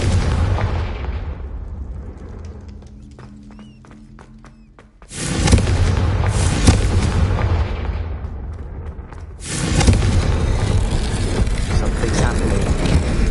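A Confringo blasting spell explodes in Hogwarts Legacy, loud booming blasts that roar in twice, at about five and again near ten seconds, after a quieter musical stretch.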